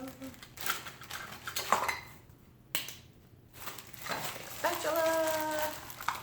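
Plastic spatula and small accessories rattling and clinking as they are pulled from a Mueller Pro Series pressure cooker box, close light knocks and rustling with brief quiet gaps and faint talk near the end.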